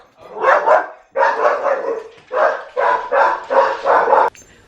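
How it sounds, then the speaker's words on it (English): Small, tiny yappy dogs bark in a quick run of sharp yips, several bursts close together, loud and near, with no talk over them. "little tiny yappy dogs, just lets them run off. So they come racing down the side of our house, barking like that"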